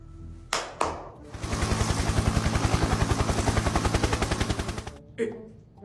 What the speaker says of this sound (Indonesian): Itu helikopter siapa? Helikopterku lah.